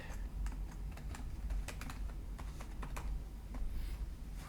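A computer keyboard clicks with quick, irregular keystrokes as a password is typed, soft and close in a quiet room with no talk.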